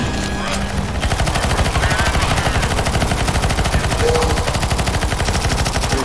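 Rapid automatic gunfire at a zombie boss in the co-op Nazi Zombie mode of CSGO: loud, continuous fast bursts that fill the whole stretch with no gaps, and no talk heard over them.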